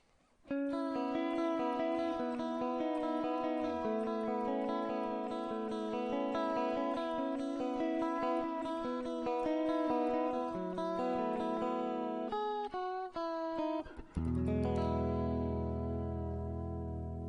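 Sustained electric guitar chords shimmer with a wavering vibrato and reverb tail, played steadily and ending with a lower strummed chord.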